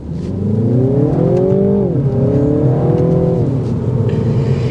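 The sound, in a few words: 2024 Mini Cooper S Hardtop accelerating on test drive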